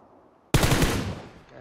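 A sudden, loud burst of rapid automatic gunfire in the mobile game PUBG Mobile, sustained for about a second before tailing off.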